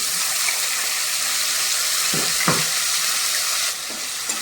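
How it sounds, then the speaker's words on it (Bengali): Green chilies and chopped tomato hit hot oil seasoned with nigella seeds, a steady bright sizzle with a few soft stirring scrapes and knocks, close and continuous, slightly quieter toward the end. "এই যে কাঁচা লঙ্কা টমেটোটা যেটা আমি কেটে রেখেছিলাম সেটা আমি এর মধ্যে দিই।"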